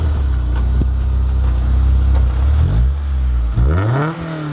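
A car engine with an aftermarket exhaust revs up loudly and close by, the pitch sweeping up and down in several throaty surges over a steady low rumble.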